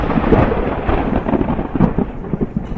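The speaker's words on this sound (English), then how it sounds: "Suddenly, there was a clap of thunder" A clap of thunder in a puppet-show fairy tale, a loud, rolling rumble with rain-like hiss that swells and crackles for a few seconds, heard alone with no voices.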